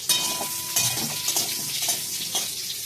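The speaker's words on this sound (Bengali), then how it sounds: "এবার আমি আলুগুলো এক এক করে ভেজে নেব। আর আলুগুলো দেখা না কী বা দেখবে, আওয়াজ তো শুনতেই পাচ্ছ।" Potato pieces fry one by one in hot oil with a steady crackling sizzle, broken by a few light scrapes and clinks of a utensil against the pan.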